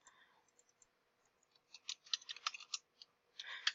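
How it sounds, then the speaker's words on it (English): Typing on a computer keyboard, a quiet, irregular patter of light clicking keystrokes that bunches into quick bursts toward the end, heard close and without talk. "if I can type."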